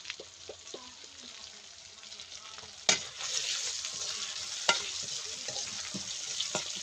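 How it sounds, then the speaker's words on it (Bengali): Fish frying in a pan with onion, chili and turmeric: a steady close sizzle that grows louder after a sharp utensil clank, with another knock a little later and faint stirring scrapes throughout. "প্রথমে পেঁয়াজ, মরিচ, হলুদ দিয়ে আমি মাছটা কষিয়ে নেব।"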